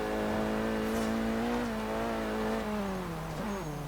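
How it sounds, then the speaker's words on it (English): A loud Renault Clio RS200 engine in Forza Horizon 3 roars and revs continuously, its pitch shifting as it drives, with tires audibly straining beneath the engine noise. "And you can still hear the tires having a very, very hard time at this."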